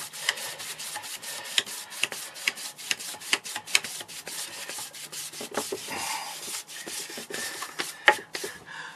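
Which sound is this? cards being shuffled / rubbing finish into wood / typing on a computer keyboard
rubbing finish into wood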